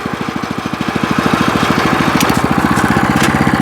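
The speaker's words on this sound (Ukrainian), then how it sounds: "Бачите, як тихенько їде мотоблочок." A walking tractor (motoblock) engine chugs steadily in gear while the machine moves, a rapid even putter close by with a few faint clicks above it.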